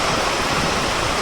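A short burst of heavy rain in big drops, a loud, even roar close at hand.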